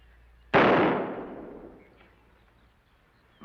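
A single loud gunshot from a Western radio drama cracks out sharply, then rings off in a long, slowly fading tail, with no talk over it.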